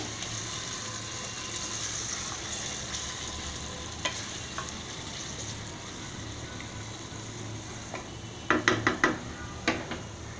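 Mutton biryani is stirred in a pot, giving a steady soft sizzle with scraping spoon strokes throughout and a burst of sharp clinking scrapes near the end, close and moderately quiet, with no talking.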